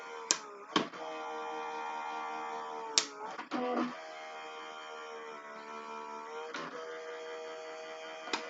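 Die cutting machine cranking a card through, a steady mechanical whirring hum with tonal overtones, punctuated by a few sharp clicks and knocks, close and moderately quiet.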